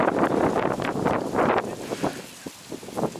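Wind buffets the microphone outdoors on a grassy patch, coming in loud, rough gusts that surge and ease repeatedly, briefly dropping away before picking up again.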